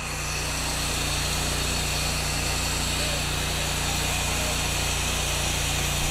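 Power sander grinding across a wood slab at an outdoor Peterson Swingblade sawmill demonstration, a loud, unbroken, close mechanical whine and hiss holding steady throughout.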